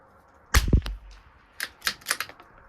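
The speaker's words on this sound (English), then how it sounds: "super tight bolt close there" Metallic clacks of a rifle bolt cycling and closing on a Tikka T1X or Savage MKII rimfire at a 100-yard range: one loud sharp clack followed by a quick series of lighter clicks, close and alone.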